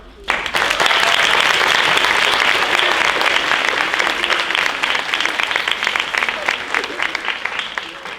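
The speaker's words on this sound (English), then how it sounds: "we want to give you, right now, a huge round of applause." A loud, dense round of applause from a high school audience breaks out suddenly and holds strong for about eight seconds, with scattered cheers mixed into the clapping.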